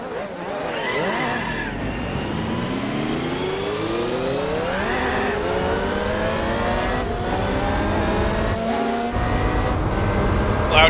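Race car engine in Gran Turismo 4, loud and continuous, climbing through the revs in repeated rising sweeps with brief drops at the gear changes.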